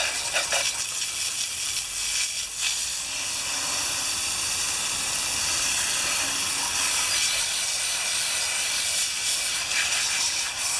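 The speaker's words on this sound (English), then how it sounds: "now I'm going to see if I can blow some of this grease off before I work on it" Compressed air blasts grease off a 1973 Briggs engine in a loud, steady hiss that runs nearly unbroken for about eleven seconds, with a few brief surges.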